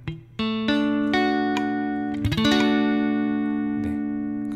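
An electric guitar plays funk rhythm triad chords with muted strings as a few struck, ringing chords that sustain and fade, with one quick strummed flurry in the middle. No voices.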